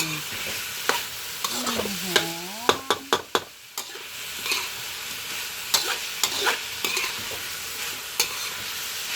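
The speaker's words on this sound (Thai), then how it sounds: "รวนหมูให้มันผับหมูให้มัน สุกก่อน แล้วเราค่อยปรุง" Pork is stir-fried in a pan with a steady hiss of frying, broken by sharp spatula scrapes and clacks, and a brief rising and falling squeak from the pan early on, all close and loud without speech.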